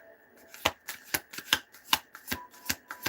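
A deck of tarot cards is shuffled by hand, giving a rapid series of about ten crisp riffling bursts in an irregular rhythm, close and fairly quiet with no talk.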